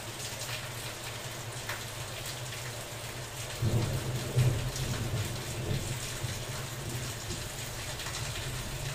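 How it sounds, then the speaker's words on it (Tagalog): Heavy rain pours steadily on a roof throughout, with a deep rumble of thunder rolling in around the middle and swelling briefly before fading back into the downpour. "Lakas ng ulan natin."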